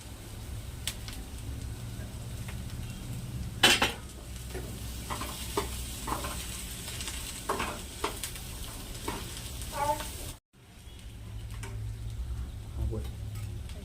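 Corn sevdo with tomatoes frying and being stirred in a pan: a steady close sizzle with scraping stirs and clinks, briefly cut off near the end before resuming.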